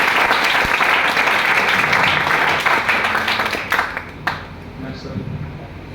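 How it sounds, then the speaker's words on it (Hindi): At a motivational talk, a crowd breaks into loud, dense applause, then the clapping thins and fades toward the end. "हमारे भारत देश के लिए जोरदार तालियां बजाएं"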